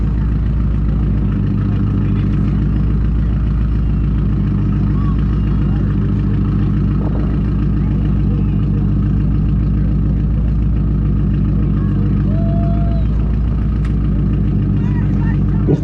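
A 2016 Subaru BRZ at an exhaust competition during a car meet, its engine running steadily with a deep, loud exhaust drone throughout, while people talk nearby.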